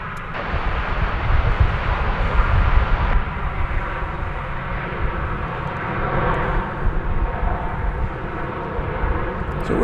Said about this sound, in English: This is going to be Frontier Flight 2704, an Airbus A321, next arrival on runway DFW.